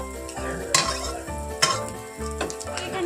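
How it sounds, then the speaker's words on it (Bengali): Eggs frying in a pan, sizzling with a low tonal hum underneath, and a few sharp scrapes of a utensil stirring; no talking. "আমি ডিমগুলো ভেজে নিয়েছি এইদিকে এখনো ভাজছি"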